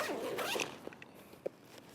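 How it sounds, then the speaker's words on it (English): A zipper drawn open on a camera backpack pocket, one close, raspy pull followed by a few small clicks and tugs. "When I open that, I have a zip pocket at the top"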